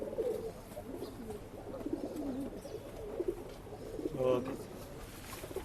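Pigeons at a pigeon sale in Bangalore cooing softly and repeatedly, mixed with people talking nearby.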